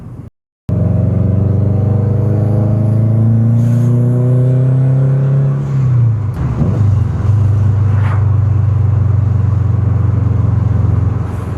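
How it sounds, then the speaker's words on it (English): A Subaru WRX with a fully built motor, external blow-off valve and external wastegates revs loudly and climbs in pitch, then drops sharply with a burst of turbo release before settling into a steady, throaty rumble close by. "the sounds that this car makes too, dude, with the external blow-off valve, external wastegates, fully built motor"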